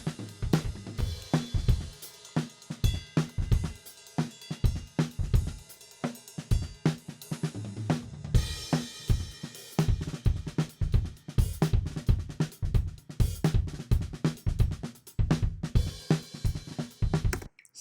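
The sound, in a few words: music with standard compression applied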